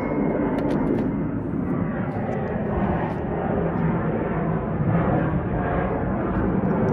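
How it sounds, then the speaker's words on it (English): Airplane passing overhead, a steady broad engine roar that stays loud and constant throughout, with no talk over it. "of course there's an airplane coming by"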